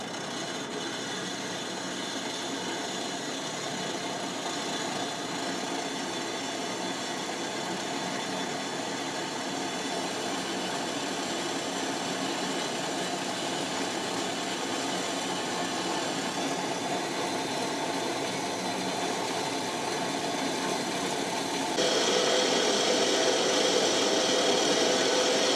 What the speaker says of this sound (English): So we're gonna cut it in the bandsaw if it will work.